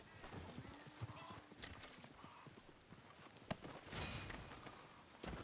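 Horse hooves clip-clop at a steady walking rhythm in Red Dead Redemption 2, with a whinny breaking through and a brief voice in the background.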